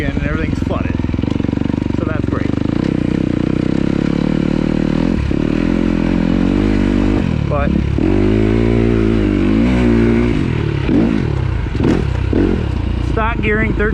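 A new 2026 Kawasaki KX250 dirt bike on its break-in ride over flooded mountain trails in Michigan, its engine droning loud and close without pause, pitch rising and dipping as the throttle opens and eases.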